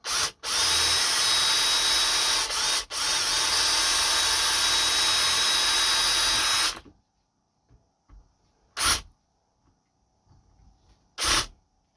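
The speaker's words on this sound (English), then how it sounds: "right in the middle of that Bakelite cap, I'm going to make a little hole" A power drill bores a small hole in the Bakelite end cap of a Singer 201 sewing machine motor, running in one loud continuous burst of about seven seconds, followed by a few brief quieter bumps and clicks.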